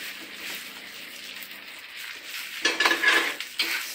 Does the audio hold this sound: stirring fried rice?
yes